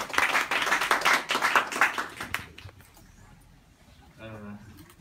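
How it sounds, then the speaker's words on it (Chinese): A crowd claps to welcome a speaker at a 2019 press conference launching the sixth Migrant Worker Literature Award: about two and a half seconds of dense applause that fades into room quiet, with a voice briefly at the end. "掌声欢迎"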